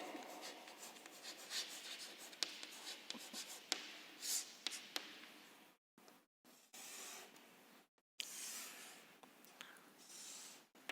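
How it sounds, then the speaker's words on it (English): Marker or chalk scratches across a board while a physics diagram of a right-angle triangle is drawn, with short strokes, taps and pauses, quiet and close with faint breathy sounds. "Let us draw the diagram related to this problem."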